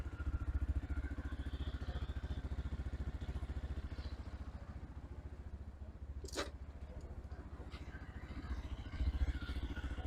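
Cross Country 300 motorcycle engine idling steadily just after first starting, a low continuous throb with a brief sharp click midway, close by and alone.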